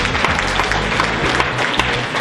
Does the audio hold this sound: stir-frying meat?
no